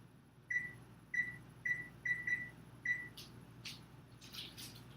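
Several short, clear electronic beeps from a kitchen timer being set for cheesecake baking, spaced irregularly over a few seconds, with faint clicks and a low background hum.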